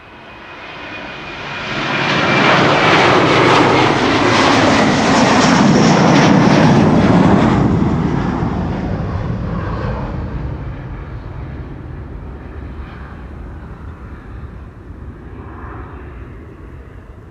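A Delta Airlines jet passes at Amsterdam's Schiphol airport, its engine roar building over two seconds, peaking loud and broad around six seconds, then fading slowly into a long, steady distant rumble with no voices.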